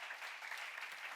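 Congregation applause in a church sermon, a steady broadband patter of many hands clapping at moderate distance, continuous through the short moment with no voice over it.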